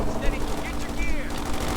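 Rapid bursts of machine-gun fire from the World War II strategy game Company of Heroes 2, Ardennes Assault campaign, loud and close, with overlapping shots and battle effects across the whole stretch.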